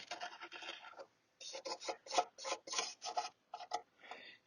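A countersink bit cuts a hole into a wooden ES-335 style guitar body from a StewMac kit, making a series of close, raspy grinding bursts separated by short pauses.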